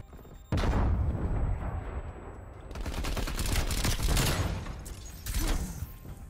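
Sustained automatic fire from the CARV.2 rifle in Warzone, a dense continuous rattle of rapid shots with louder bursts and a booming swell near the end, alone without voices.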